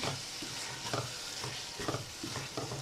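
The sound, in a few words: stirring chicken keema frying in a pan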